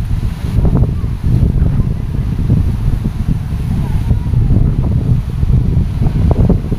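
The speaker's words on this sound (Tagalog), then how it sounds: "Grabe nga, laki nga ng alon." Strong wind buffeting the microphone over a heavy sea with big waves around a small boat, a continuous loud low rumble and rush throughout, with no voices in the clip.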